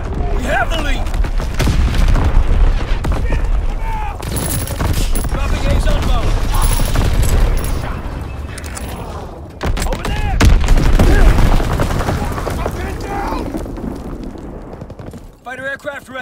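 Enemy mortar fire in a Call of Duty WWII match on the winter Carentan map: dense, continuous booms and rapid gunfire bursts rolling through the whole stretch, loud and close, with brief dips before the barrage resumes, while voices speak over it.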